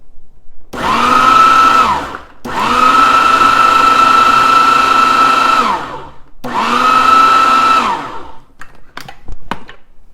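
An electric food processor grates cabbage in three loud, steady motor runs with brief pauses between, ending with a few faint clicks and rattles.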